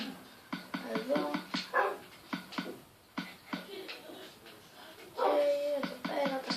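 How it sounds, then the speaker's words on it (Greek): Several pet dogs bark in short sharp bursts, close by and repeated, with a few whimpers and yips mixed in and one longer whining cry near the end. "εδώ πέρα τα σκυλιά μου είναι πολύ σπαστικά"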